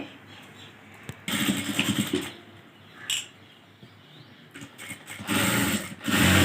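A sewing machine stitches along the edge of a blouse in several whirring bursts of varying length, close and fairly loud, with brief quieter gaps between runs.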